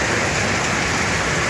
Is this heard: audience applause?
no